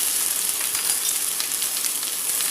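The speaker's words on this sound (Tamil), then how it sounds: "இந்த கருவேப்பிலை, பச்சை மிளகா, இப்போ இந்த வெங்காயம் எல்லாம் வரிசையாக போட்டுடுங்க." Curry leaves, green chilli, onion and ginger paste fry in hot oil for rava upma, a loud, steady, close sizzle with no voices over it.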